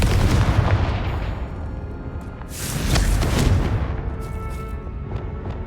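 The Confringo blasting spell in Hogwarts Legacy, a heavy booming explosion with a deep rumbling roll, a second loud burst swelling midway and then fading into a lingering low rumble.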